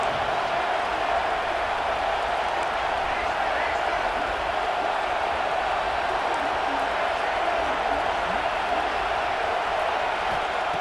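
Loud, steady roar of a stadium crowd at a college football game as the home fans make noise for a red-zone defensive stand, a dense continuous wash of voices throughout.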